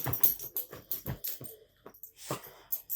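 Soft, high dog whimpers and whines come in short repeated bursts, close by, with some breathy panting between them.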